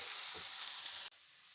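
Two medium onions sweat on a medium flame in a pan for a Goan potato bhaji, giving a soft, steady hiss of frying that cuts off abruptly partway through, leaving only faint quiet.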